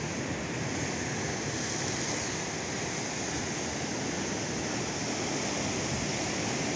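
Sea waves wash onto the shore in a steady, dense roar of surf that never lets up, heard alone with a breezy hiss and no talk.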